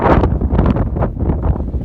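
Heavy mountain wind at Twin Peaks rushes and thumps against the microphone in continuous close gusts, loud and unbroken for the whole moment.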